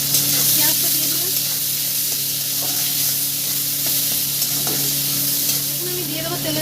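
Chopped onions, two of them diced small, sizzle steadily in hot oil for a chicken mocha dish, with a dense, continuous frying hiss and occasional stirring scrapes close by.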